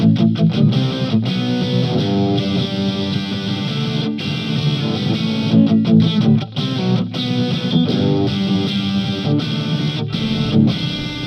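A distorted electric guitar plays a rhythm part through a Nux Mighty Space amp with a booster and noise gate engaged, the gate cutting the tone to silence between chopped, chugging chords.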